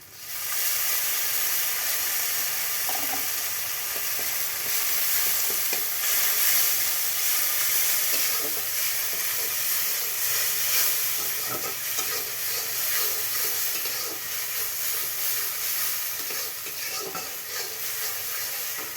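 Garlic frying in hot oil at the start of a mustard puti fish curry: a steady, loud hiss and crackle running throughout, close up, with faint scattered clicks and no voices.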